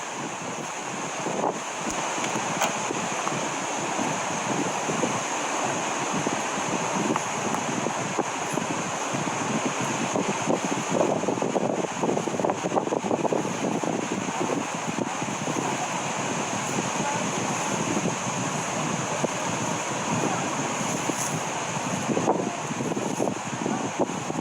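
Strong wind gusting across a cemetery at night, roaring steadily and buffeting the microphone with constant rumble and hiss, no voices heard.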